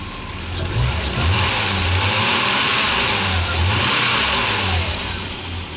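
A VW Polo's engine runs loud and close, its mid-pitched hum rising and falling through a few revs over a steady idle, with no voices over it.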